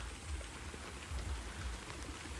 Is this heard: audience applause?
no